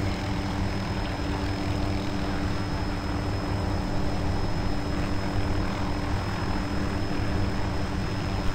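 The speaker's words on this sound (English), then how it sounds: "Look for the helicopter, he's hovering over the other objective." An Arma helicopter hovers in a video game, its dense steady engine and rotor roar loud and constant throughout, with no pauses.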